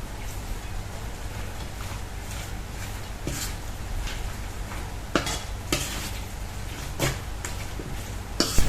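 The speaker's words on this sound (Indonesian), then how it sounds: "masukkan tadi potongan wortel, lobak putih sama daun bawang tadi, ini digaulkan hingga sebati" Carrot, white radish and scallion pieces being tossed and mixed into kimchi, with steady wet stirring and scattered louder clacks of a utensil against the bowl, close up and with no talk.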